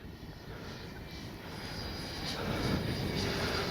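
A Freewing 90mm T-45 RC jet on its maiden flight gives off a steady whooshing ducted-fan whine high overhead, faint at first and gradually growing louder, with no talk over it.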